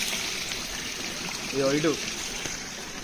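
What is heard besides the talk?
stream water flowing down a hillside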